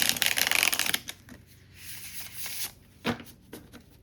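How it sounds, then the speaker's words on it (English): A deck of cardstock playing cards is riffle shuffled up close, a loud fluttering burst of cards followed by quieter handling, a sharp bridge snap and a few soft taps. "I don't riffle shuffle all decks,"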